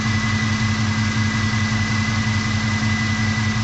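A Dodge Dakota pickup's engine idles steadily, close and loud, with an even rhythmic low throb and a constant whine over it for the whole stretch, no voices.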